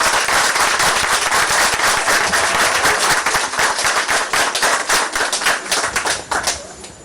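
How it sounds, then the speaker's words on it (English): Loud, dense applause from a large crowd greets a commander-in-chief visiting personnel on an external operation in the field, with a sharp rapid clatter of claps sustained throughout that thins slightly near the end. "Can we give a big round of applause to that?"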